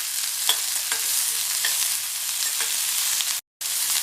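Shallots and two large cut garlic cloves sautéing in a pan for a chow chow poriyal, giving a steady close sizzle with soft intermittent stirring scrapes and one brief dropout near the end; no voices.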